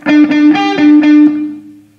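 Distorted electric guitar picking an arpeggio from a song, a handful of quick ringing notes over about a second that then fade out alone.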